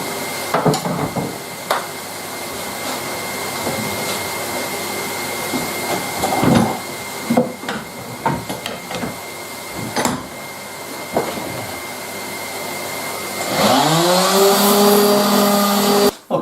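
Whirring power sander grinding across a pine top with intermittent knocks and scrapes, then the motor spins up loudly near the end.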